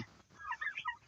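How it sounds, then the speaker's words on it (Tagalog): A turkey gobbles in a short, rapid burst of warbling calls, fairly faint and at some distance, with no talking. "Nasa kulungan lang tong ating pabo guys."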